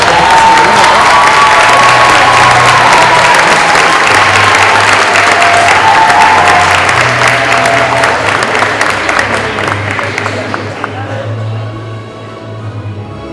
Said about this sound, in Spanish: brindamos un fuerte aplauso a los funcionarios